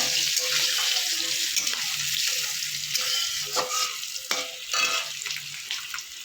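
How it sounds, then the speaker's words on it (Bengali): A tempering of asafoetida and split green chillies frying in oil, a steady bright hiss with a few scraping stirs, loud and close, fading slightly at the end. "ফোড়নটা একটুখানি ভাজা করে নেবো।"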